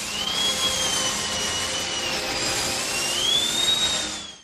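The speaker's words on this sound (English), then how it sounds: "Yep, that's the sound of a dentist drill." Whining dentist-drill sound in a wrestling theme song, a loud, piercing high tone gliding up and down in pitch over a dense, noisy backing that nearly hides any other instrument.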